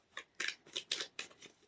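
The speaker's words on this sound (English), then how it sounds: "Heather, I am shuffling the cards a little bit." Tarot cards are shuffled in short, crisp riffles and flicks, about six quick bursts in under two seconds, close and faint with no talk.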